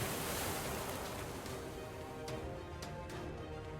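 Violent sea waves crash in the Limbus Company video game around a stormy lighthouse, a continuous roaring surf wash that holds steady throughout.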